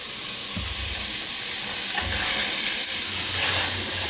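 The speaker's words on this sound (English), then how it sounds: "here we like to sweat our onions" Onions sweat in a hot pan for a veggie chili, giving a steady bright sizzle that rises slightly as they are tossed with a spatula, with soft scraping knocks from the stirring.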